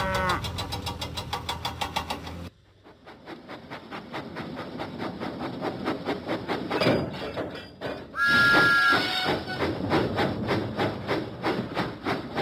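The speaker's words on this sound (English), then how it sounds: "Thomas pumped his pistons and puffed out of the docks." Steam engine puffing from a Thomas and Friends video game, a steady rhythmic chuffing run with music and game effects layered over it, loud and continuous throughout.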